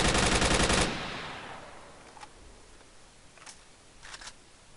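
An AK rifle in Arma 3 fires a rapid burst at the start, then trails off into quieter mechanical clicks and clacks of reloading.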